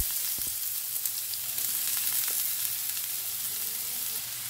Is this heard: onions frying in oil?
yes